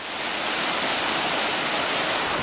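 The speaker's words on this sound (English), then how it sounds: "And look at the river is really raging right here." Raging Des Moines River rushing beneath a swing bridge, a steady, loud broadband roar of fast water with no pauses and no voices.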